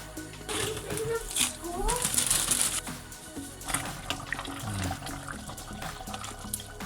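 Vegetable stock splashes and gurgles steadily into a pot of mutton soup while a person talks over it.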